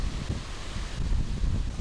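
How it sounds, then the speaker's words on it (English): Wind blowing steadily through an outdoor garden in Azerbaijan, a continuous broadband rush with buffeting gusts on the microphone and no voices. "Getting windy a little bit."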